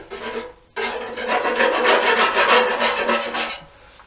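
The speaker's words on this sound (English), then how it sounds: "I'm going to carry on scraping away to my heart's content and get rid of as much as possible" Paint stripper residue is scraped off a Honda CBR400 fuel tank, a loud close rasping scrape that starts after a short pause and continues in rapid repeated strokes before easing off.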